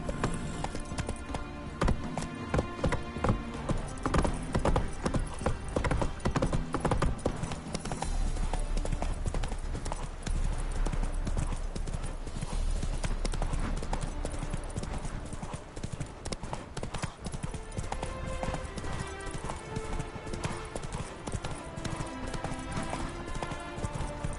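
Horse hooves clip-clop steadily at a riding pace in The Witcher 3: Wild Hunt, loud and continuous beneath game music, with a brief whinny and a voice calling out.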